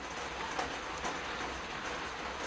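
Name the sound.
rain falling outside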